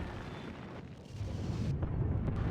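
A heavy blast rumbles through a snowy battlefield in Dawn of War 2 as orks are caught in it, a dense low roar that swells and holds loud for a couple of seconds.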